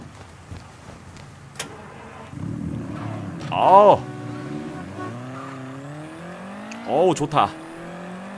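Car engine in the Mafia III video game: a loud exhaust burst on starting, then a steady low engine rumble with two more revving surges near the end, while someone talks and exclaims over it.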